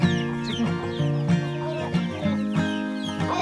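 Chickens at a market cluck repeatedly in short, irregular bursts, close and fairly loud, with overlapping calls and no talk.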